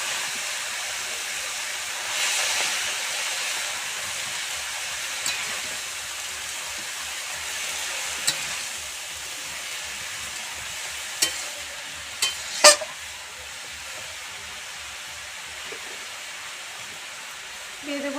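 Shredded cabbage tipped into a hot pan for a village wedding-style cabbage ghonto, giving a steady broadband frying sizzle with a few sharp clatters and stirring knocks near the end.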